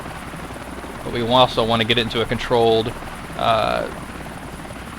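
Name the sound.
helicopter flying in video game GTA IV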